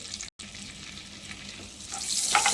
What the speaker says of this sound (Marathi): जिरं सुद्धा ना छान असं भाजून घ्यायचं फुलवून घ्यायचं